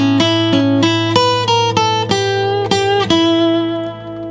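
A blues lick in E is played on guitar, with a run of bright plucked single notes over a sustained low note that finishes on a ringing held tone. The playing is close, clean and solo.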